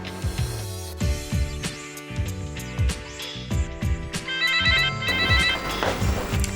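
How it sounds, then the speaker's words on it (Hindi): A telephone rings as a ringtone over a rhythmic music bed in a Pakistani drama, its bright trilling bursts coming a few times. It is loud and close, and there is no talk. "हेलो, मरियम, सारा का फ़ोन है"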